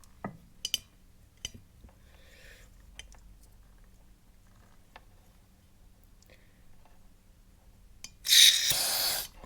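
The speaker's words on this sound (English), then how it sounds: "carb cleaner going through the injector" After some faint ticks and clicks, a loud hissing spray of carb cleaner bursts through a motorcycle fuel injector for about a second near the end, close and harsh.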